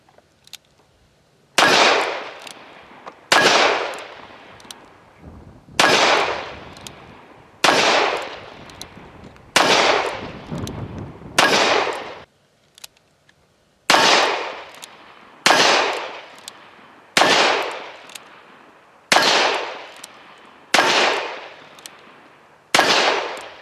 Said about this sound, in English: you're pulling that hammer back, you're taking a shot